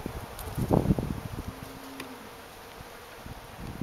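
Honey bees hum and buzz around an opened hive in cooling afternoon air, a steady close insect drone with faint rustling and a brief louder burst near the start.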